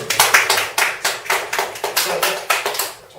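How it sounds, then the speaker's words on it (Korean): A small group at a lecture in a Korean medicine clinic claps in a steady rhythm, about a dozen distinct, evenly spaced claps heard up close. "박수."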